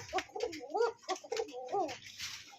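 A pair of high-flying pigeons, kept among domestic and foreign breeds offered for sale, coo in repeated soft, throaty phrases close by, with brief pauses between calls and faint background noise.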